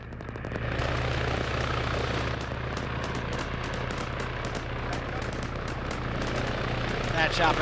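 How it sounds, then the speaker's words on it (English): Steady rotor drone of a helicopter in an SCP multiplayer video game, holding constant at moderate level with sharp clicks and distant bursts scattered over it. "That chopper's infinitely going up, so it's about to go down."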